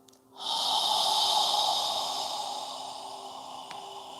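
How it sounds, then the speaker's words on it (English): A single long, close breath during a yoga exercise, starting abruptly and holding a steady airy rush for several seconds before slowly fading, heard alone without talking. "Follow your breath, inhaling up. And when you're ready, exhaling down."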